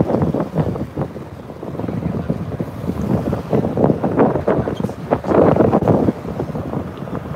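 Many motorboat engines drone steadily over gusty wind buffeting the microphone, with water sloshing and slapping throughout, off the Emerald Coast.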